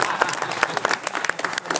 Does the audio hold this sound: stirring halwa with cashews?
no